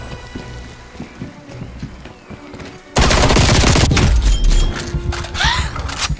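Loud, dense burst of automatic gunfire in Call of Duty Cold War, beginning after a few seconds of quieter game sounds and continuing as rapid close-range shots to the end.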